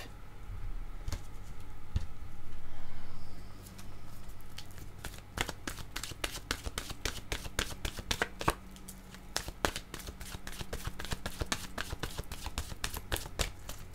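Oracle cards shuffled and drawn by hand, a brief soft rustle early on and then a long run of rapid, crisp card flicks and snaps, close and fairly quiet.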